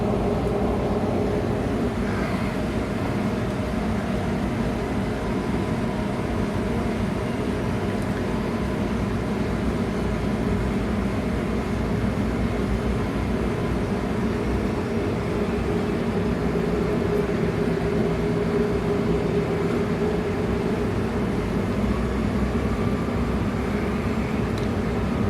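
A Boeing 737 in a home flight simulator rolls toward the runway under a little power, giving a steady, even engine hum and rumble that holds without a break throughout.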